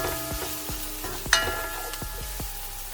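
Garlic and thyme sizzling in a pan with a steady frying hiss, broken by several clanking stirs and one sharper scrape near the middle.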